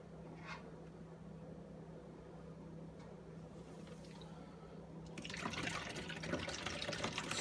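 Orange concentrate and water being poured into a jug beside a sink, a low steady liquid rush that swells louder and brighter toward the end as the pour speeds up.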